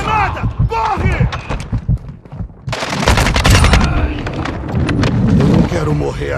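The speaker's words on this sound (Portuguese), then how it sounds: "Granada lançada!" Gunfire and a grenade blast in the video game Modern Warfare 2, with loud bursts of rapid shots and booms rolling through a chaotic firefight while voices shout over the action.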